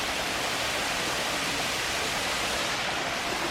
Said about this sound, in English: I am at a waterfall.